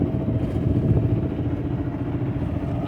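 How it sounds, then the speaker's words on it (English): A sailboat's engine runs loudly near Key West, a steady rough low drone with rattling clatter, close and continuous without any talk. "I got the engine running, if you can't tell, things loud as hell"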